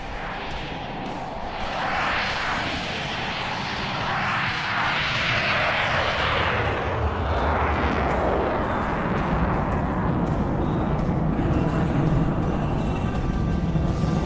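An F-16 jet flies four consecutive aileron rolls at low altitude in a flight game air show, its engine a continuous loud roar that swells and shifts in pitch as it passes, with no voices.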